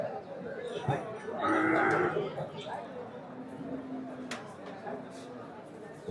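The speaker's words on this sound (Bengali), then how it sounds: "একটা সুন্দর বলদ দেখা যেতেছে। এই পাশে একটা ষাঁড় দেখা যেতেছে।" Cattle, bullocks and bulls at the Hazratpur livestock market, with one nearby low moo rising over a murmur of crowd noise and scattered market sounds.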